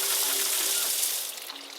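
Water rushes through the pipe of an off-grid, wood-powered shower in a steady, hissing gush close by. After about a second the flow eases and thins.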